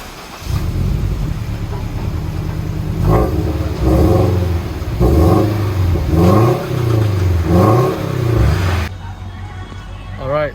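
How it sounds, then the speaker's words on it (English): A Toyota 86 boxer engine with a newly fitted bolt-on exhaust idles with a low rumble, then gets revved in five or six repeated blips that rise and fall, close and fairly loud, before settling back. "It's not overly loud, but it has the boxer rumble"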